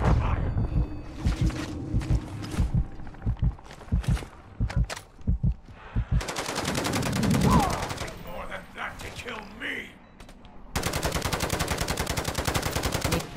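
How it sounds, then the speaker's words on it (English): Rapid automatic gunfire from a Call of Duty MWZ match, with loud sustained bursts and scattered single shots mixed with footsteps and a voice speaking briefly in between. "Taking effective fire."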